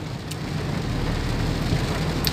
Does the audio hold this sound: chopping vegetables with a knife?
no